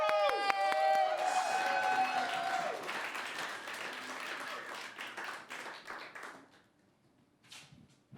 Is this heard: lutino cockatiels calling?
no